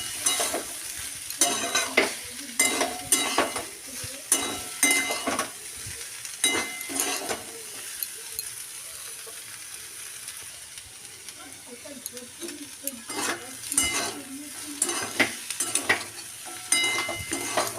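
Coriander leaves being stirred into dal with eggs frying in a pan: repeated scraping stirs over a steady sizzle, with pauses between bursts of stirring, close and moderately loud.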